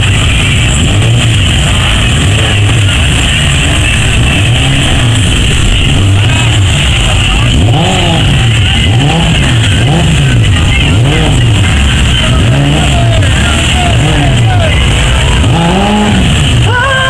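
Motorcycles rev repeatedly at the start of a race at a spring motorcyclists' meet in Mników in 2013, with rising and falling engine notes over a loud, constant crowd and outdoor din.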